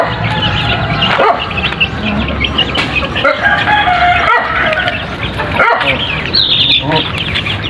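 Chickens and chicks cluck in a crowded farm pen, with a rooster crowing and a dog barking somewhere nearby, all loud and continuous under a speaking voice.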